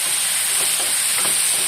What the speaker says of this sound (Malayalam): മുരിങ്ങയിലും ഉള്ളി പച്ചമുളകും കൂടി നന്നായിട്ടൊന്ന് വഴറ്റും